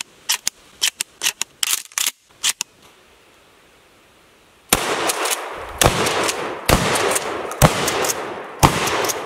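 A Shockwave shotgun firing birdshot rounds outdoors: a quick burst of sharp blasts, a quiet gap, then a series of loud, widely spaced shots, each one followed by a ringing echo.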